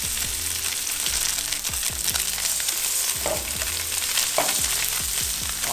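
Pacific barracuda seared on high heat in an oiled pan over a Camp Chef burner on Catalina Island, giving a loud, steady sizzle with rhythmic scraping and ticking pan noises throughout.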